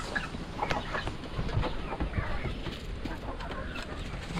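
Chickens cluck on a rainy farm, scattered soft clucks and short calls over a steady background wash, fairly faint and a little distant.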